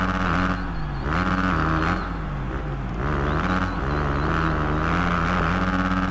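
Engine of a dirt bike held on full throttle in Monster Energy Supercross, a steady loud buzzing drone that rises and dips in pitch as the bike rides over small whoops, with no talking.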